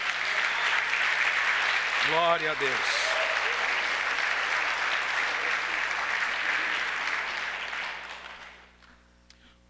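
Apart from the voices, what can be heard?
congregation applauding in church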